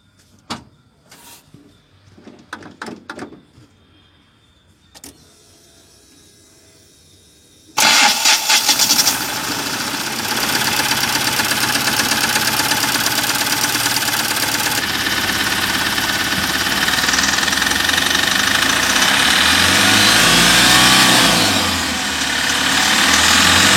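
A Mahindra Maxximo truck with a starting problem cranks and fires up after a few quiet clicks and knocks. The engine then runs at a loud, steady idle for the rest of the clip, close by and with no talking.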